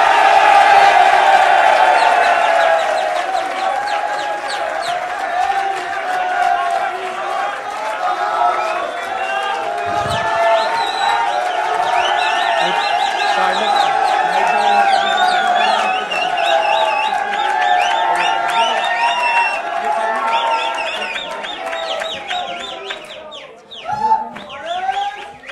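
Crowd applause and cheering at a poetry gathering greet the poet Kamran Saeed Usmani, a dense, sustained roar of clapping and calls that holds steady for most of the stretch before tapering off near the end.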